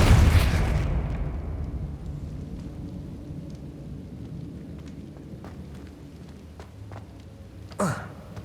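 A Depulso spell is cast in Hogwarts Legacy: a loud, booming burst opens the moment and decays into a low rumbling wash, followed by a short swooshing hit near the end.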